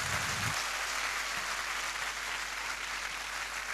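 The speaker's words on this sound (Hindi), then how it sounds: "सबसे जोरदार तालियों से उनका वेलकम किया जाए" Audience applause in a hall welcoming the uplines at a Safe Shop speech, a steady wash of clapping from many hands lasting the whole stretch, with no talking over it.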